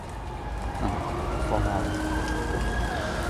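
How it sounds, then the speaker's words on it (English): Steady rain, growing heavier, patters on surfaces at a zoo in December with a constant wash of noise, a few brief tonal hums faintly in the background. "it has just started to rain a bit more heavily"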